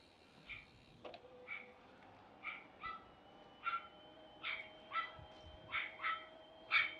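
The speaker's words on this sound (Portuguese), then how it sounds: "Cachorrada tá brava ali." Dogs bark angrily at a distance along a city avenue, a repeated series of about a dozen sharp barks at fairly regular intervals, faint, heard passing by on a bike with no talk.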